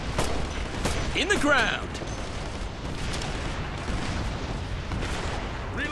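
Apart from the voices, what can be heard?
gunfire and explosions in Operation Flashpoint Red River video game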